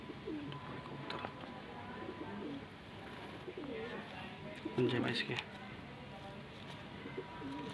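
A few soft pigeon coos, one brief burst standing out midway, sit beneath someone speaking Hindi close by, with faint bird sounds through the background.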